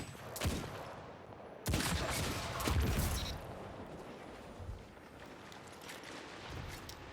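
Dire Promise hand cannon shots in the sci-fi shooter game Destiny 2, a few loud sharp bursts with echoing tails over a busy background of in-game combat noise and ambience.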